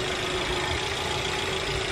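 A Mercedes engine idles after a fuel pump module replacement, holding a steady, even hum without stalling through the whole short stretch.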